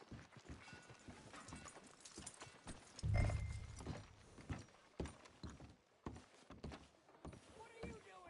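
A horse's hooves clip-clop in a PS4 video game, a faint irregular patter of soft thuds with a brief heavier rumble partway through, under quiet game ambience and speaking voices.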